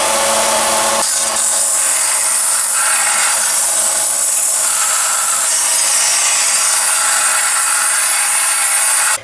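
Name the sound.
sanding wood with 80 grit sandpaper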